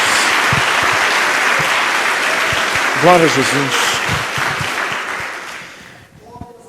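A church congregation applauds with dense, sustained clapping, while a voice calls out praise over it midway before the applause fades near the end.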